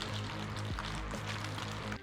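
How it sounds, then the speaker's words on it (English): A strawberry margarita drink bottle holding powder mix, ice and water is shaken steadily, the contents sloshing and rattling in a dense continuous churn that breaks off briefly midway and stops at the end. "And now, the second shake."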